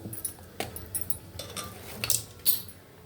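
A spoon clinks and taps against a bowl while omelette batter with green chili, onion, chili powder, salt and garam masala is stirred, giving a quick irregular series of light metallic chinks close by.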